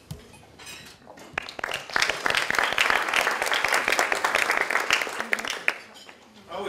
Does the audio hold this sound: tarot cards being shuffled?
no